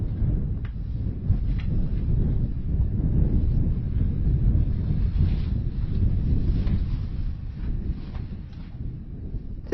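Wind blows steadily through the galleries of an old communal granary, a continuous low rushing roar with gusty swells and no voices, loud and close to the microphone.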